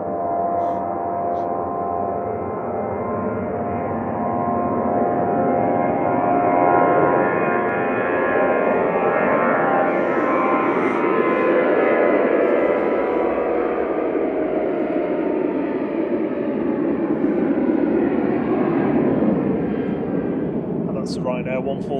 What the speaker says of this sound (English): Ryanair 1432 to Grenoble, departing in front of us.